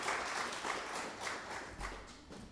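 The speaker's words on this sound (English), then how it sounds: "if we could give a round of applause to Thomas D. Scott" Applause from an audience at a District 3 community meeting, a soft, steady patter of many hands clapping, faint and distant, lasting the whole moment without any talk.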